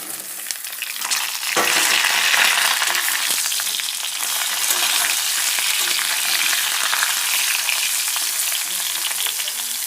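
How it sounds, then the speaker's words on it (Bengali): Potatoes fry in a hot pan with a steady, close sizzle, sharpening at one point as something is stirred or added, then holding a constant crackle with no talk. "আলুটা হালকা লাল করে ভেজে নিই"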